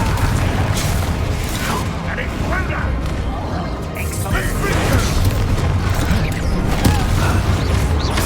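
A Bombarda spell explodes in Hogwarts Legacy amid a dense, loud battle, with booming blasts and crackling impacts layered over continuous rumbling combat noise while voices shout nearby.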